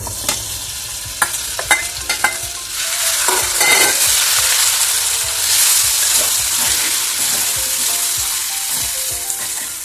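After a few sharp clinks of a spoon, prawns drop into a hot pan of roasted spice powders and set off a loud, steady sizzle that carries on to the end for a coconut-bit prawn ularthu, with no talking.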